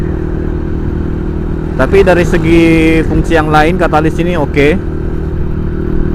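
A motorcycle fitted with a Catalyst X catalytic converter idles steadily in Makassar, a low, even engine hum running throughout beneath someone talking.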